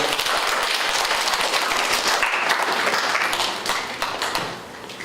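A church congregation at a summer youth retreat service in Suncheon gives a round of applause, dense steady clapping from many hands that fades toward the end.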